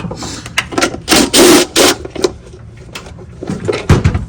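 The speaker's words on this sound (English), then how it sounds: "Take the bolts out the cover." Socket wrench work on a golf cart cover, a series of close metallic clicks and ratcheting bursts as bolts are backed out, with louder grinding stretches in the middle and sharp knocks near the end.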